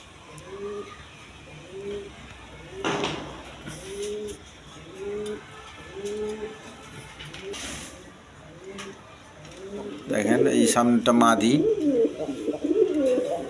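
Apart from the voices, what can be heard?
pair of silver Giribaz pigeons cooing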